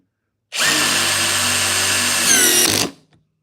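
An impact driver whirs steadily for a couple of seconds driving a 3.5-inch deck screw, its pitch rising near the end as the screw seats, then stops abruptly. No voices.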